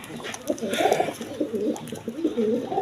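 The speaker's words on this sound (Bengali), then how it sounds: "এখানে এক পেয়ার ইন্ডিয়ান কালদম কবুতর আছে" A breeding pair of Indian Kaldom pigeons coo in a steady, rounded rhythm up close, several overlapping calls rolling through the clip while background voices murmur.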